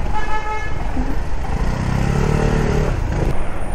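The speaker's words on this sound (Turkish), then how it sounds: "Korna çalarak ben de geçerim." A car horn toots several times in road traffic while driving on a workday commute. The honks ring out over a constant roar of engine and road noise.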